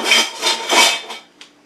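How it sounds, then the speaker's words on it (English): A metal spoon scrapes and rubs in a few rasping strokes in a home kitchen while kombucha is being made, then one short light tap, close and fairly loud, with no talking. "Get a spoon."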